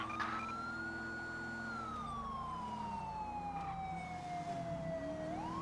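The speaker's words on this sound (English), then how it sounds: "Why my sirens are cutting off." A police car siren in the video game GTA V with the LSPDFR mod wails steadily, then its pitch slowly sags and slides downward as it cuts off, heard over a constant engine drone.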